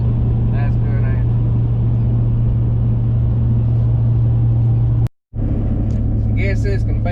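A Duramax truck cruising down the road, a steady loud low engine and road drone filling the cab, with a brief cut in the middle and faint voices over the rumble.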